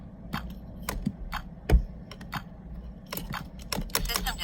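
Buttons are pressed on a GSM alarm keypad: a series of quick plastic clicks, some close together and some spaced apart, loud and close with faint room noise between them.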